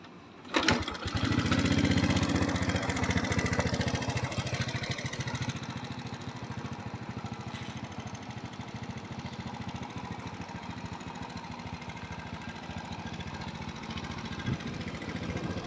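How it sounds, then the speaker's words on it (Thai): A Honda Wave 125R motorcycle engine starts with a sharp burst and then settles into a steady, close idle that keeps running evenly to the end. "ลองฟังเสียงเครื่องดูนะครับ"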